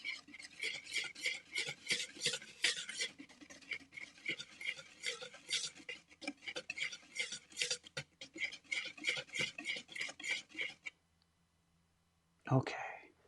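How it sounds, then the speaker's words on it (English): Pancake batter being whisked in a bowl, a fast, steady clatter of wire against the sides for about eleven seconds, then a pause and one brief knock. "now I'm supposed to use a whisk to combine everything"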